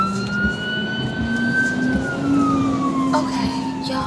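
An ambulance siren wails steadily as it passes close to a car on the road, its pitch sliding up and then falling away, loud over constant traffic and engine rumble.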